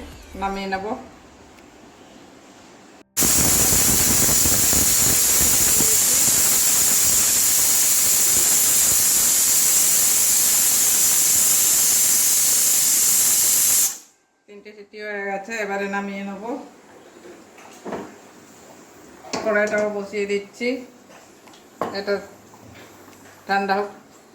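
A pressure cooker on a gas flame cooking chana dal lets off a loud, continuous steam hiss for about ten seconds, cutting off abruptly; before and after, someone talks in a kitchen.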